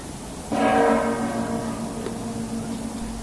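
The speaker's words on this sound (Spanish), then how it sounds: "La campana de la robusta torre cuadrada tañe su sonido muerto." A church bell in a sturdy square Romanesque tower tolls once with a mournful ring, struck loudly and then fading slowly over a low background murmur of a crowded square.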